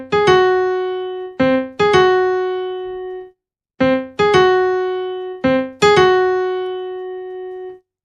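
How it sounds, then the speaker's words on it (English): A horn-like huntsman's motif in an orchestral piece: bold, clear repeated notes in short rhythmic groups, each attack ringing and decaying, with a brief pause midway before the pattern returns, loud and close. "In the next section, we hear the horn of the huntsman, and it sounds like this."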